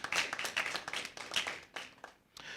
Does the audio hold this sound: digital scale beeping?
no